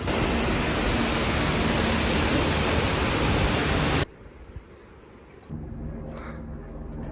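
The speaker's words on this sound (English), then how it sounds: "You can hear the water." Rushing water of a stream on the Roberts Point Track near Franz Josef Glacier, New Zealand, roars loudly, a broad steady wash of flowing sound that drops away abruptly, then returns more softly.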